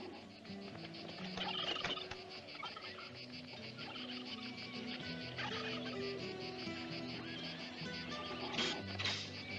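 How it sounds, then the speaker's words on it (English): Laying hens on a farm cluck and gobble in a busy, continuous chorus of bird calls, close and fairly loud, with a few sharper squawks near the end. "Them birds are good layers."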